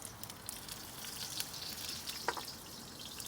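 Onions frying in oil in a wok on a Big Green Egg grill give a faint, steady crackling sizzle with scattered light pops, heard on its own with no talking.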